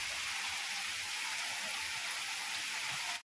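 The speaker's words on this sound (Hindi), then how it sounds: "बोल रहे हैं तो और भी तेज हो रही है बारिश" Heavy monsoon-style rain pours down in a steady, dense hiss, loud and close, with no voices, until the sound cuts off abruptly at the very end.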